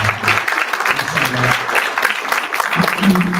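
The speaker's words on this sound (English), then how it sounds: "One more round of applause." An audience at a community gathering shortly before Maghrib prayer gives a round of applause, a continuous mid-level clatter of hands with voices speaking through it.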